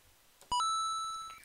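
A bright, two-note Mario coin chime rings out, a quick rising ping that sustains and slowly fades, like collecting a coin in a retro game.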